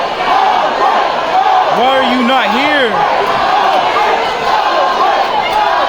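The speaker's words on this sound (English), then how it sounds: "Listen to this fucking hype crowd." A hyped crowd roars and cheers at a live Muay Thai fight, a continuous loud wash of voices and shouts throughout, with one voice rising in drawn-out yells near the middle.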